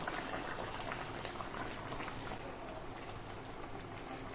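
Hilsa fish curry with potatoes bubbles gently in a pan over a low gas flame, a steady soft simmering fizz with small pops running throughout, close and quiet, with nobody speaking.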